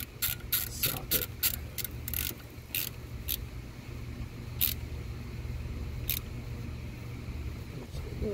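A ratchet tightens an ignition coil pack bolt on a 2001-2010 Chrysler Town & Country or Dodge Grand Caravan. A quick run of sharp, close clicks comes first, then a few sparser clicks over a quiet mechanical background.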